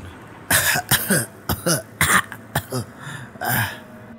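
An old man coughs in a series of short, close, rough bursts, several in quick succession, with throat-clearing in between, heard alone and fairly loud.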